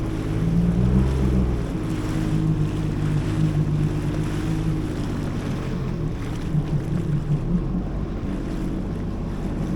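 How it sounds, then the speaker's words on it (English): A jet ski motor runs steadily on calm ocean water off the Maldives, a low engine drone mixed with wind buffeting and water rush, close and continuous with no talking. "The sound of the motor doesn't scare them away?"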